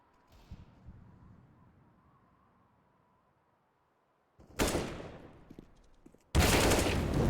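Heavy gunfire from an esports shooter video game match erupts after a quiet stretch as two loud, dense bursts, the second sharper and sustained to the end.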